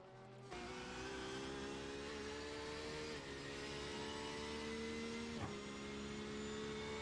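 A GTE/GT3 race car engine screams around the track in a sim race, holding a loud, steady high-rev whine with slow pitch sweeps, a brief dip around a gear change, and a sharp shift near the end.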